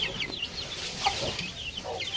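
Young chicks cheep and peep softly, with quick high chirps repeating throughout as they feed on grated turmeric, the flock close by and fairly quiet.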